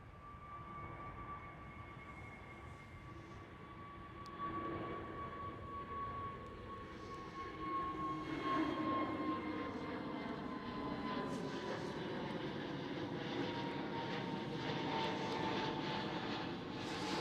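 An EasyJet airliner passes at Schiphol, Amsterdam, its engines giving a clear whining tone that slides downward as the rumble grows louder and fuller toward the end.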